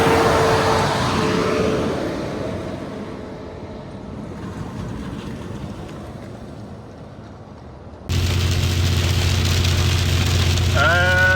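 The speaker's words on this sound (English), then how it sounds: "It's raining pretty hard right now." Steady rain drumming on a surface, loud and continuous, with a low engine hum joining in toward the end.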